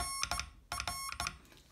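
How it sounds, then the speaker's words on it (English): A small buzzer on an Omnigraph, an early Morse code trainer with a wind-up motor, runs off a 3-volt power pack and sounds close and faint in short clustered bursts, roughly six quick beeps in under two seconds. "I've applied 3-volt power pack to the terminals there to operate the buzzer"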